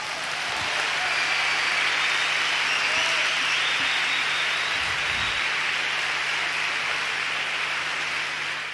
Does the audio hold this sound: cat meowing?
no